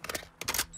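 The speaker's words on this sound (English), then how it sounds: "Switching mags." Quick mechanical clicks and clacks of a weapon magazine swap in Call of Duty: Modern Warfare II, two short bursts of handling noise close up, with no talking.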